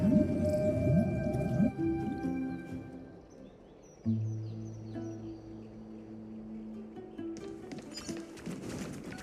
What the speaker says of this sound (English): Listen, I heard Electra's voice. She's calling to us.